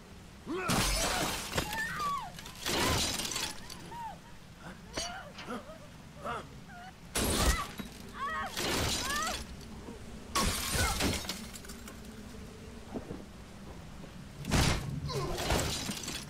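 Car window glass shatters in the video game Heavy Rain, with several loud, sharp crashes spread across a long, tense sequence. People talk over it and the game audio throughout.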